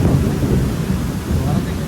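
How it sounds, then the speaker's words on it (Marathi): Heavy rain pours down over flooded farm fields in a steady, loud roar, with deep thunder rumbling beneath it and no pause in the downpour. "डायरेक्ट जोरात पाऊस आलाय"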